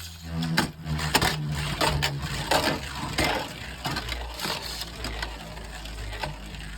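A Beyblade Burst Super Hyperion, a right-spin attack type, rattles and scrapes after an angled launch into a plastic stadium, a steady gritty whirring with repeated sharp clacks as it grinds around the bowl.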